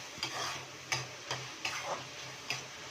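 A spoon stirs tomatoes and turmeric in a hot pan, giving repeated scraping strokes about every half second over a soft background sizzle, close and moderately quiet with no speech.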